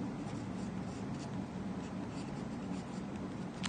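A marker draws X and Y graph axes on a classroom board during a maths lesson, giving a steady, continuous scratchy rubbing that runs the whole time at close range with no talk over it.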